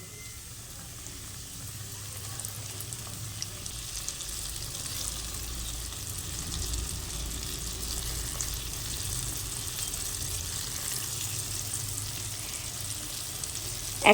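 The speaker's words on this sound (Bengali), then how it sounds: "হালকা করে চিকেনগুলোকে ছেড়ে দিচ্ছি গ্যাসের আঁচটা একদম মিডিয়াম রাখতে হবে" Coated chicken pieces fry in oil over medium heat for KFC-style fried chicken, giving a steady, even sizzle and crackle throughout, moderately quiet and without talk.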